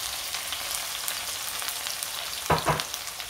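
Garlic and onion fry in a pan with a steady, close sizzle, and a brief stirring scrape near the end.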